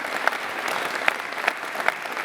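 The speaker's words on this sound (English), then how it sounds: "There's a big cheer for that." Crowd at a Conservative local-election campaign rally cheers and applauds in a steady, dense wash of clapping, with a few sharper bursts standing out, and no talking over it.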